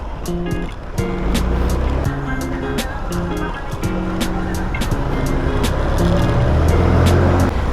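A motorcycle rides over a bumpy road full of humps, a steady engine and wind rumble with repeated jolting thumps, while a voice talks over it.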